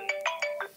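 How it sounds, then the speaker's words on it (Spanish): A mobile phone ringtone chirps four quick electronic bursts in a steady pattern during a live radio-style broadcast, fairly close and clear with no talk over it. "Apaga el teléfono de Roberto."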